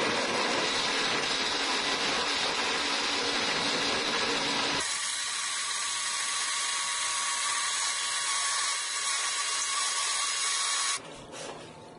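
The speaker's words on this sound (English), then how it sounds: "We are going to cover this up and then grind to our heart's content." A blender grinds and purees cashews for a vegan cheese spread, a loud high whirring that shifts pitch partway through as the nuts break down, then cuts off near the end.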